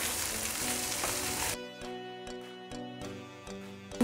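Mushrooms sauté in a wok with a loud, bright sizzle that drops sharply partway through, leaving a softer crackle with a few stirring knocks.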